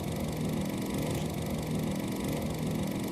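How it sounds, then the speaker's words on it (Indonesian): A Honda Brio car engine runs steadily and evenly at idle, a smooth continuous hum with no other sounds. "kalau suara mesin yang halus, seperti ini"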